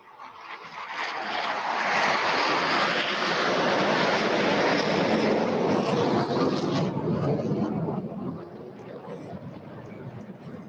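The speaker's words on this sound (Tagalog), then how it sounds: "Inyo pong nasaksihan ang high-speed opener pass o ang mabilisang paglipad ng FA-50PH o ang tinaguriang Fighting Eagle" A Philippine FA-50PH Fighting Eagle fighter jet makes a high-speed pass, a loud broad roar that swells over about two seconds, holds steady, then eases off toward the end, with no speech over it.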